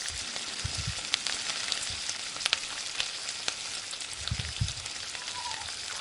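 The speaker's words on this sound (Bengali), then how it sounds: "তো দেখো আমি খুব ভালো করে একটু ভাজা ভাজা করে নিচ্ছি।" Spices with cumin powder fry in a pan for a soya chunk and egg dish, giving a soft, steady sizzle with a few light stirring scrapes and no voices.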